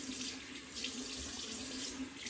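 A kitchen faucet runs steadily as soap is rinsed off a hand, a continuous close hiss of water splashing into the sink with no pauses and no talk.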